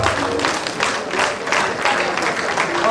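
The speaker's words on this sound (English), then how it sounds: "So it's a lot of applause for science." Loud, full applause from a lecture audience at a faculty of science open lecture, thick overlapping clapping that swells and dips slightly in waves, close and continuous throughout.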